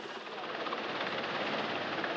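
Steady roar of a landing helicopter's rotor and engine at Les Invalides in Paris, broad and continuous, heard from a moderate distance with no break.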